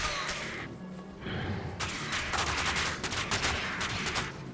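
Enemies taking poison damage hits in the video game Diablo 2 Resurrected, heard as rapid clusters of sharp crackling pops like firecrackers, loud and dense, with a rumbling game background underneath.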